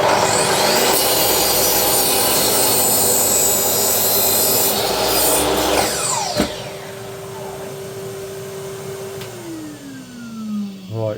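A power saw cuts wood for a blue tit bird box alongside a running dust extractor, a loud continuous whine and rasp that winds down to a descending spin-down tone near the end.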